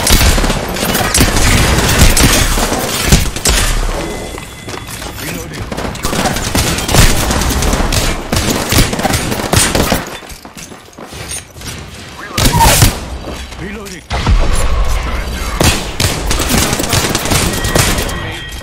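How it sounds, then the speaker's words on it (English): Video game gunfire rattles in dense, continuous bursts, loud and close, with explosive booms. The firing breaks off briefly around the middle, then resumes, under steady game audio. "Getting shot at."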